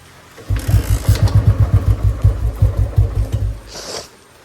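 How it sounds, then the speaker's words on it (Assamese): A motorcycle in neutral is kick-started, and its engine catches into a rapid, loud chugging idle of even beats for several seconds, close by, before cutting out. "চেভ নল'ব, কিক দিব লাগিব।"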